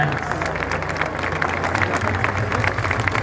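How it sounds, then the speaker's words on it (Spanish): Large crowd at a presidential report in Mexico City's Zócalo applauding, dense sustained clapping heard at a distance with general crowd noise. "Un aplauso para las cadenas comerciales"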